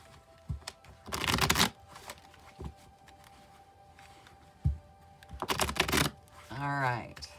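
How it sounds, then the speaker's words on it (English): Tarot cards are shuffled in two brisk riffling bursts separated by quiet handling sounds, close by, with a brief voice at the end. "I'll shuffle till I feel like the deck is ready, and then I'll cut"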